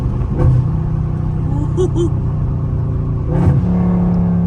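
A Dodge Scat Pack engine rumbles steadily while driving in traffic, with short rising revs near the start and middle; someone talks over it.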